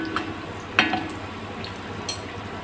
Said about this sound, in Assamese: এনেধৰণে মই গোটেই পিঠাখিনি ভাজি ল'ম